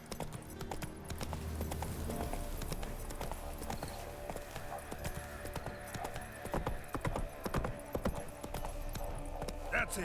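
Hooves of Roach, the horse in the Witcher 3 video game, clip-clopping in a steady trotting rhythm through a night forest, quiet and close, with faint ambient game sounds underneath.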